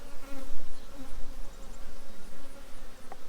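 Steady, dense buzzing of many honeybees close by at a small nuc hive, a continuous insect drone with no voices.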